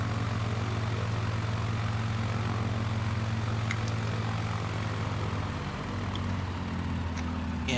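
A propeller airplane engine drones steadily and loudly with a low, constant hum while flying in the Microsoft Flight Simulator video game. The engine note dips slightly partway through and continues without any talking.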